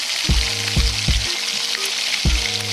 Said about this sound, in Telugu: ఇప్పుడు ముందుగా రెడీ చేసి పెట్టుకున్న తాలింపు సామాన్లు అందులో వేసుకొని చిటపటలాడేంత వరకు వేయించుకోవాలి